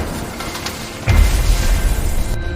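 A deep explosion standing in for the blast that sank the PNS Ghazi submarine in the 1971 war, hitting as a sudden low boom after a dull rumbling bed and rolling on heavily.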